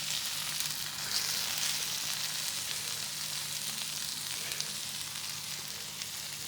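Paneer sizzler hissing and crackling steadily on a hot sizzler plate, a dense, even sizzle that stays loud and close throughout with no voices.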